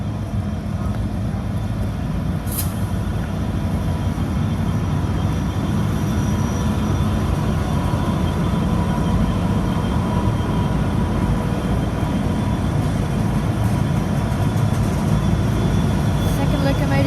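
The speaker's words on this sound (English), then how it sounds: "The leading loco is 8232." Grain train locomotives pass at Unanderra with a continuous loud diesel rumble and rolling drone that holds steady throughout, with a brief high squeal near the start.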